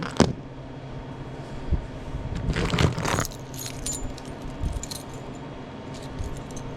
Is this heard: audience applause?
no